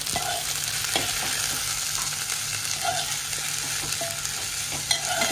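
Finely chopped onions sauté in oil for Kolhapuri misal with a steady, moderate sizzle, punctuated by regular soft scrapes and taps of stirring.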